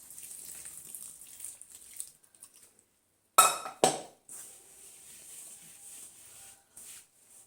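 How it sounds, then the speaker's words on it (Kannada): Pea-cooking water being poured into rice flour dough for rice roti in a kitchen, heard as a soft trickle with a couple of sharp close clinks of a vessel, then a quieter continued pour. "ಬಟಾಣಿ ಬೇಯಿಸಿರೋ ಅಂಥ ನೀರನ್ನು ಅದನ್ನು ಸೇರಿಸ್ಕೊತಾ ಇದ್ದೀನಿ."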